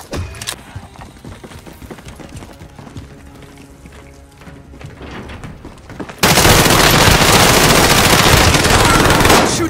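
Gunfire in Call of Duty Warzone during a Rebirth trios match, with scattered shots and rattling bursts at first, then a loud, continuous, dense barrage for the last few seconds.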